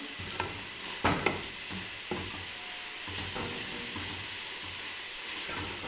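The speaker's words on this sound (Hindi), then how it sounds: "अब इनको अच्छी तरह भून लें।" Radish paratha filling frying in a few spoonfuls of cooking oil gives a steady close hiss and sizzle, broken by a handful of sharp spoon knocks and scrapes against the pan.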